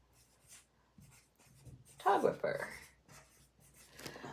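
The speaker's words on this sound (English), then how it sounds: "And so now I'm about to write down another one here too." A pen writing notes in a book, with a brief, close scratchy burst of strokes amid quiet room sound and faint talk.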